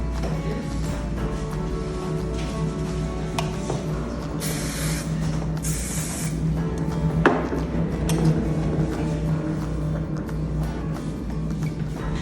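A spray bottle is spritzed over hair while styling a high ponytail, giving two short misty bursts a second apart, heard close over steady low room noise and handling sounds.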